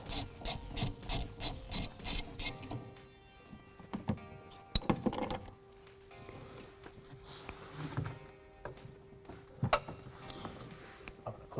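A wrench loosens the nut on a car's windshield wiper arm, a quick run of loud ratcheting clicks followed by softer scraping and metallic handling sounds, close by.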